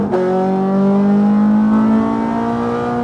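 A Ferrari F430 F1 accelerates hard on a race track, its engine note climbing steadily through the revs in one loud, continuous pull heard from close by with no talk.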